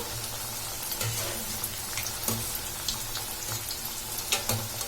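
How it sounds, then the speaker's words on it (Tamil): Wheat flour snack deep-frying in oil gives a steady bubbling sizzle with scattered crackles and pops, close and moderately quiet, with no voices. "இது வந்து கொஞ்சம் ஆயில் நிறைய ஊத்தி நல்லா ஃப்ரை பண்ணிக்கலாம்"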